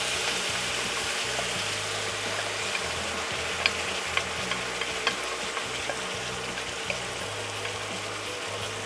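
Sauce poured into a pan of crispy orange venison sizzles steadily, with a spoon stirring and scraping and a few sharp clicks against the pan, moderately loud with no talk.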